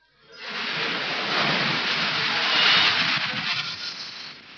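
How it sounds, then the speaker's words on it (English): A fierce rainstorm lashing in from the south in Sudan, heard as a loud, dense, continuous roar of wind and pouring rain that swells quickly and holds steady throughout. "a fierce storm suddenly comes lashing in from the south"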